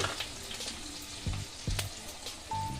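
Onion paste frying in a pan for a katla fish kalia, a soft continuous sizzle with a few dull knocks of a spoon against the pan and a brief faint tone near the end.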